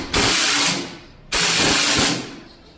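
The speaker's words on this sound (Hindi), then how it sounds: "तो ये प्रॉपर तरीके से बोल्ट इसका हमने टाइट कर दिया है।" A half-inch power tool drives a 17 mm bolt tight on a TVS Apache RTR 180 engine in two loud, close, hissing bursts of about a second each, separated by a brief pause.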